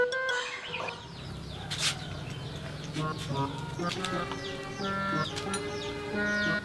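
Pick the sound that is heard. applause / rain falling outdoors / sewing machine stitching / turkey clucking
turkey clucking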